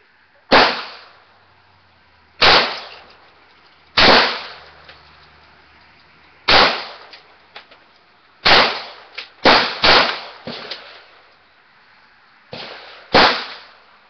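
.40 caliber pistol shots at an outdoor gun range, about ten loud, close reports with sharp attacks and short tails, some spaced a couple of seconds apart and others in a quick cluster, with no talk over them.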